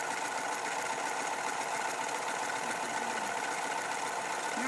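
A Pfaff sewing machine stitches a one-step buttonhole, giving a steady, continuous mechanical whirr at close range that runs evenly throughout with no talking.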